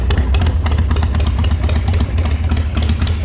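Custom shovelhead chopper engine warming up, a loud, close, lumpy idle with strong low-end thump and mechanical clatter, running steadily without talk.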